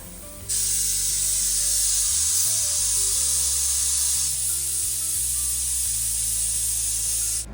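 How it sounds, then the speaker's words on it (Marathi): A pressure cooker whistle releasing steam while masala rice cooks, a loud continuous hissing jet with a low droning rumble beneath, sustained steadily for several seconds before cutting off. "आता 3री शिट्टी बी होणार आहे"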